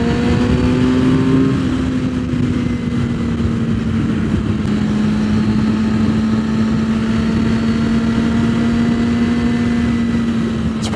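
A Suzuki GSX-R 600 engine drones steadily while riding, a loud sustained tone that shifts pitch early on and then holds, with rushing wind and road noise throughout.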